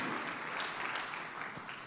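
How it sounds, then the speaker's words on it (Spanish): A church congregation applauds during a Spanish-language worship service, a steady wash of hand claps that fills the two seconds without a break, fairly distant and even in level. "Dale aplauso al Señor."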